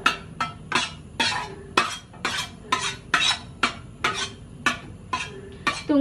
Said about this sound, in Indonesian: Pakai sendok aja ngaduknya.